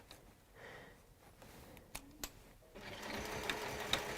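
A home sewing machine runs steadily for about a second and a half at the end, stitching fabric while a quilter works on a project, with a few soft clicks and handling noises beforehand and no talking.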